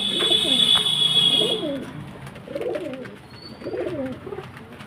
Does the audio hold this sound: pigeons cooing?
yes